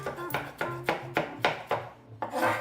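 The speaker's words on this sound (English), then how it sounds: "2 cloves of garlic, just minced with a knife" Two garlic cloves minced with a knife on a board, a rapid run of about eight crisp chopping taps in an even rhythm, close and clear with no talking.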